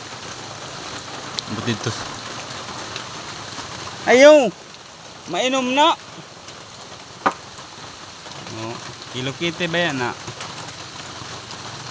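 Heavy rain pours in a constant wash of hiss, with several people chatting and calling out over it in a Philippine language.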